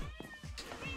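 A cat in the Minecraft video game gives a short, clear meow, quiet and close, with a couple of brief vocal tones in under a second.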